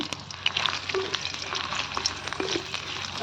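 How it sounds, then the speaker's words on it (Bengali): Oil sizzles softly as potatoes fry, with a few light clinks of a utensil against the pan. "এখন ওই তেলের মধ্যেই এই আলুগুলোকে একটু ভেজে নেব"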